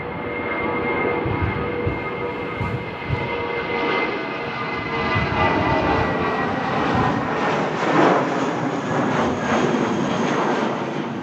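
British Airways shuttle jet landing at Manchester Airport in storm-force winds, a loud steady engine roar with rushing wind buffeting throughout, rising slightly toward the end.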